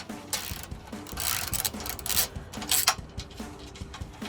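A ratchet with a 16mm socket working the bolts on a Jeep Wrangler JL front bumper plate, giving close, rapid clicking pawl strokes in repeated bursts with faint metallic rattles between.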